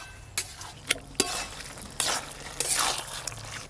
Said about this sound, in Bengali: দেবো তো দাঁড়াও ভালো করে মিশিয়ে নিই আগে